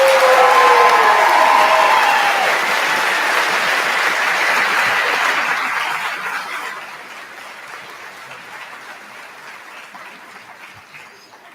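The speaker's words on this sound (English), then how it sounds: "Please give all of our graduates a round of applause." Loud applause and cheering from the crowd at the Monroe County Middle College 2022 graduation, with a whistle and whoops at the start, then the clapping thins and fades to scattered hands.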